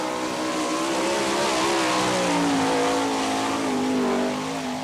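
A sprint car races around a dirt oval at the All Star Circuit of Champions Winternationals in Gibsonton, Florida, its engine roaring loud and steady the whole time as the pitch rises and falls through the laps.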